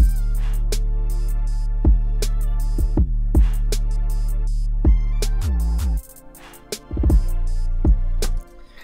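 The hook of an unmixed rap beat, with booming sustained 808 bass, crisp snares and hi-hats, and a few quick rolls that break into a sparser bar before the heavy low end returns and then stops abruptly.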